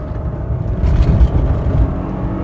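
A Mercedes CLK 320 on a casual drive gives a steady low engine and road rumble heard from inside, swelling slightly as it accelerates.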